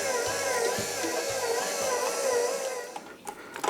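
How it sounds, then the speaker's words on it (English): A stand mixer runs steadily, working softened butter into a sweet yeast dough for Dutch currant buns. It makes a continuous close motor whir with a low rhythmic thumping from the dough, and it winds down near the end. "Give the mixer a chance to get it really incorporated. And turn it back on."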